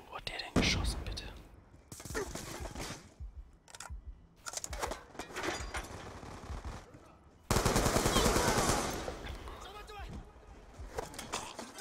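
Automatic gunfire bursts in Call of Duty Black Ops 2, several loud volleys with one long dense burst near the middle, mixed with someone talking excitedly over the shooting.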